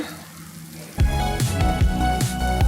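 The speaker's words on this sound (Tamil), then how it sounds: "நம்ம ஸ்லேஸ் பண்ணியிருக்க வெங்காயம் ஆட் பண்ணி நல்லா ஃப்ரை பண்ணிக்கோங்க" Sliced onions hit hot oil already holding garlic cloves and curry leaves for a lake pomfret fish curry. After a second of quiet a loud, steady sizzle bursts up and continues, crackling close by.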